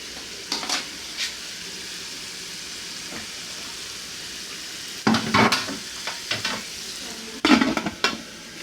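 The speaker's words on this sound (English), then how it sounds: "let's wait for like 5 to 7 minutes so that the tomato will fry very well" Tomatoes for jollof rice fry in a pot with a steady low sizzle, while spoon stirs and scrapes come through in short louder bursts, twice in clusters near the end.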